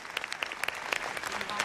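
A studio audience claps steadily through the whole short stretch at a televised singing competition, a dense, fairly even patter of many hands.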